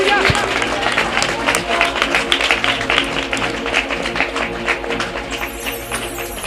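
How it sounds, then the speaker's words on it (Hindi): A church congregation claps hands in praise during a Hindi sermon, steady rhythmic clapping throughout, dense and loud, with voices and hubbub mixed in underneath. "ताली बजाकर परमेश्वर के लिए महिमा करें"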